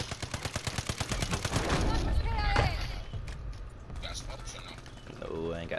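Rapid automatic gunfire from a Call of Duty match rattles in a fast, loud burst, then gives way to scattered shots, explosions and game noise while a player talks over it.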